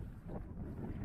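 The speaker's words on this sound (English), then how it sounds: "it's a little windy today" Gusty wind buffets the microphone outdoors on a breezy day at an RC flying field, a steady low rumbling roar that fills the whole stretch with no talk over it.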